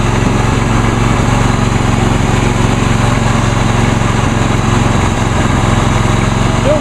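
A 2001 Huskee 46-inch lawn tractor with carburetor trouble runs and drives, its small engine droning loud and steady at close range with a rough, pulsing note.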